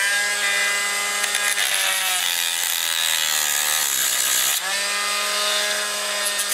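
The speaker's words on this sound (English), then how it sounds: "I'm gonna cut a slot right here, and I'll start with a disc" A rotary cutting disc grinds a slot into a handmade fishing lure, a steady high-pitched whine with strong harmonics that dips briefly in pitch as it bites deeper, then recovers, close and loud with no talk.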